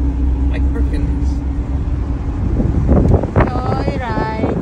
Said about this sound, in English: windy over here